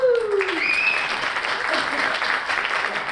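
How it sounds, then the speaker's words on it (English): A crypto conference crowd applauds in a steady, dense wash of clapping, with a few whoops and whistles rising briefly over it at the start. "I want a round of applause for the team, for Mugur, for Adriana, for Ruxandra"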